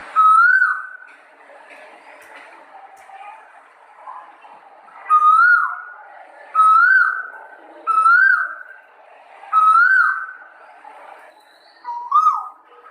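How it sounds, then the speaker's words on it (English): A cuckoo calls its clear two-note song about seven times, each whistled call loud and separated by short quiet gaps, with a faint hiss of background in between. "Now let us hear the cuckoo bird singing."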